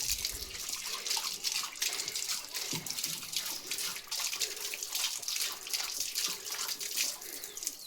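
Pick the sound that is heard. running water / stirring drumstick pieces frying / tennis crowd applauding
running water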